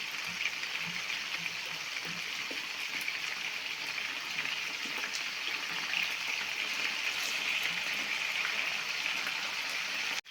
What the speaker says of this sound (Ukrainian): перевертаємо фрикаделічки, вже трішки підсмажилися